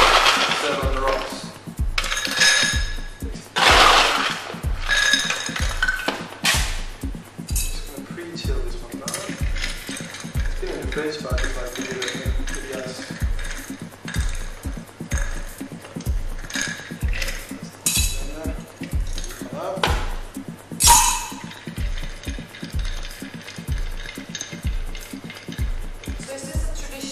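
Ice cubes clinking and rattling against a glass as a Negroni cocktail is stirred on the rocks, a steady rhythmic tinkling with scattered louder knocks, close and fairly loud throughout.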